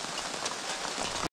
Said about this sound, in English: Rain, guys.